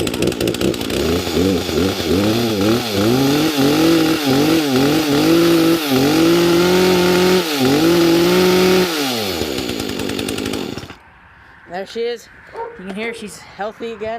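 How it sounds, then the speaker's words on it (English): Dog barking repeatedly nearby under the rough drone of a 42cc Poulan Pro gas chainsaw engine; after the engine cuts off, a person speaks while yips continue. "Sorry for the dog barking in the background."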